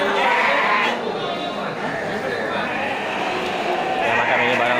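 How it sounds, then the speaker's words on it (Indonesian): Rams bleating at a sheep pen at a livestock market, scattered bleats mixed into a busy crowd of chatter and close talking, with the animals blending into the noisy background. "kita coba masuk ke lapak domba dan apa, domba jantan ya"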